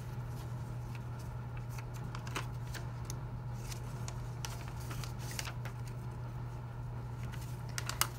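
Soft papery crinkles and creases as the corners of an origami paper dinosaur are folded inward, scattered light rustles over a steady low electrical hum.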